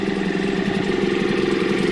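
A Yamaha Malta 3hp two-stroke outboard motor, freshly serviced with a new water pump, idles steadily up close with a loud, even, buzzing putter and no talking.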